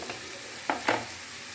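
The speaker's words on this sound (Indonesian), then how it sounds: "lalu aduk hingga matang" A spoon stirs a potato croquette mixture cooking in a pan, giving two quick scraping strokes over a faint sizzle, close and brief, with no talk.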